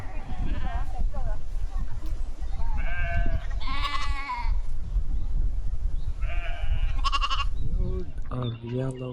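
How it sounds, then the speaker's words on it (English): A baby black sheep and others bleating outdoors on a countryside walk, several distinct wavering bleats close by, some overlapping, over a rustling background with people talking quietly in between. "Oh, a baby black sheep."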